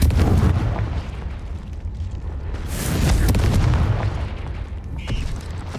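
Fiery spell blasts from the Confringo curse in Hogwarts Legacy, booming bursts inside a cave with a heavier swell midway and a short whooshing flare near the end, loud and continuous with no talking.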